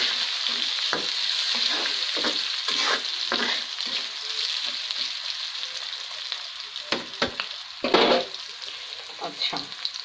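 Onions frying red in a pan, a steady broadband sizzle with intermittent scraping stir strokes, close and moderately loud, no voices.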